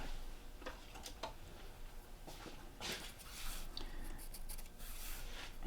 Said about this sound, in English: I just put a rough line down the middle, and I draw a line down the middle.